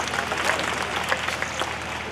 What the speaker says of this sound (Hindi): एक बार जोरदार तालियां इनके सम्मान के लिए।